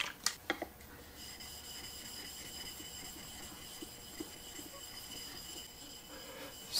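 A chisel is rubbed back and forth on an 8000 grit Shapton glass sharpening stone, making a faint, soft, continuous scraping, with a few sharper knocks near the start and the end.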